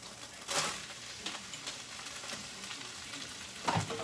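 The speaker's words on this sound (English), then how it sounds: "So it's time for frying the vegetables." Vegetables, with no onion or garlic, sizzle steadily in a pan in a home kitchen, a constant hiss broken by a few louder crackles and stirring clatters.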